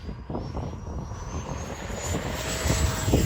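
A radio-controlled EDF Viper jet doing a short-field takeoff with flaps down: a steady, rising electric ducted-fan whine with a thin high tone that climbs in pitch, loud and close, with faint wind rumble and no talk.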